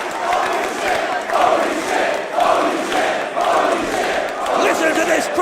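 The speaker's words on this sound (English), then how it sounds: "Listen to this crowd in central London." A wrestling crowd in central London roars and chants in rolling, rhythmic waves, a loud, dense wall of voices filling the whole stretch with a few surges in volume.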